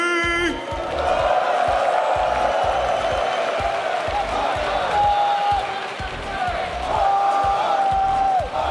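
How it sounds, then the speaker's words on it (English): A loud esports arena crowd at the RLCS Rocket League Fall Split Major quarterfinals cheers and whoops over a thumping rhythmic beat, with a voice talking in the mix. "Give it up for Gen.G!"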